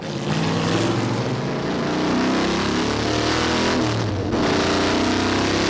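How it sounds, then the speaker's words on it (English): A V8 Rover-engined MGB GT race car at the 1998 Inistioge hillclimb drives uphill with a loud, steady growl heard from on board, with a brief dip like a gear change before the engine pulls again. "his fabulous Class 4 winning V8 rover engined MGB GT, and we growl up Inistioge"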